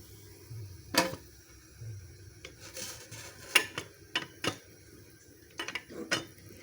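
A metal cooking pot being covered with its lid in a home kitchen, with several scattered clinks and taps of metal on metal at a quiet level, one of them louder near the start.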